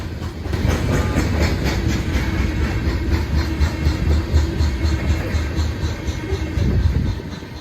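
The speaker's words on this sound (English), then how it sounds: "love seeing monster trains like this" A CSX freight train of loaded grain and coal cars rolls past close by, with a loud continuous rumble and rhythmic clickety-clack of wheels over rail joints.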